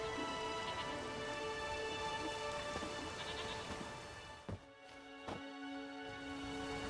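Steady rain falling in The Witcher 3 game world, a dense even hiss with occasional sheep bleats, a low rumble of thunder and sharp ambient thumps near the end, no speech.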